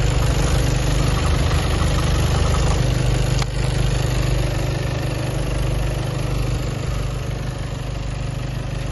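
A 2018 Skoda Superb car engine idling steadily at close range, a constant low rumble and hum with faint vibration throughout.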